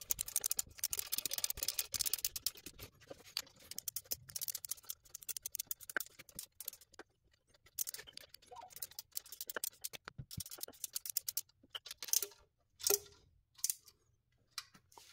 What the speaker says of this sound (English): So it really helps if you have electric ratchet for this type of work.